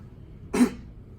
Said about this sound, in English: I would like you to cough.